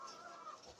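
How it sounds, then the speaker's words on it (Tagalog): Agitated hens clucking at an egg farm during egg harvest, a steady busy chatter of several birds at close range with no talking. "nakagulo yung mga manok"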